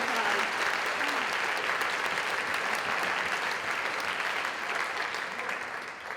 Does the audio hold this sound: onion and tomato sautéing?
no